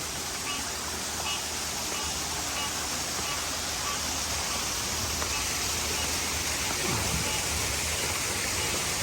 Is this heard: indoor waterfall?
yes